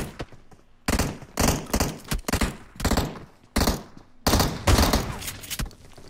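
Shotgun blasts in PUBG Mobile, a rapid series of loud, punchy shots in uneven bursts with short gaps between, close and dominant, no talk.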